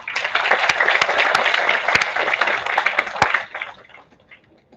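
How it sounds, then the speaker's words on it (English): Conference audience applauding during a sapling presentation ceremony, a dense sustained burst of clapping that fades out near the end, with no talking. "Let's have a huge round of applause for ma'am."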